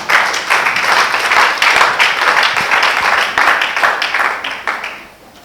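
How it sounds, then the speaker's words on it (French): A seminar audience applauds the women with sustained, dense clapping that carries on for several seconds at full strength, then thins out and fades near the end. "Est-ce qu'on peut acclamer pour les femmes?"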